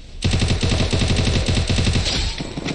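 Rapid automatic gunfire in a shooting video game, a dense loud burst of repeated shots lasting a couple of seconds before tapering off, with no talk over it.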